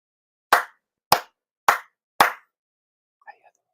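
Four sincere hand claps during a Konko prayer ring out sharp and evenly spaced, each distinct and close, followed by a faint brief sound before silence.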